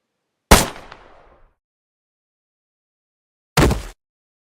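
A single sharp pistol gunshot cracks loudly and decays into a short echo, followed after a pause of about three seconds by a second brief burst of noise.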